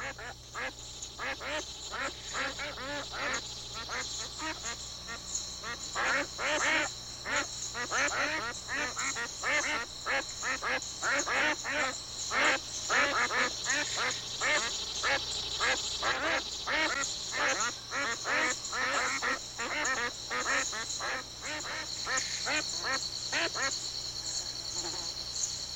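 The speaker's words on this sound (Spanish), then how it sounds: "como estos patos canadienses que, escapando del frío invernal, encuentran refugio y alimento en las aguas" Canada geese on water call in a busy run of rapid honks and quacks, many birds overlapping at moderate distance over a steady high-pitched background hiss.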